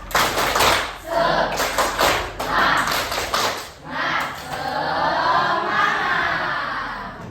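A classroom of students performs a rhythmic spirit clap, bursts of group clapping and thumping in a patterned beat, followed by a sustained crowd cheer or shout.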